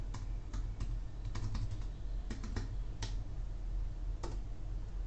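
Password typed on a computer keyboard during a server control panel setup, a sparse run of quiet, irregular key clicks over a steady low hum, with no talk.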